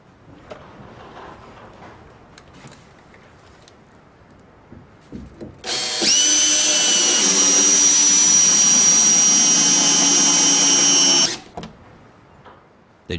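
A power drill drives a Spax screw through a wooden board into a beam: a loud, close, steady whine with rising pitch runs for about five seconds after a few light handling knocks, with no talking.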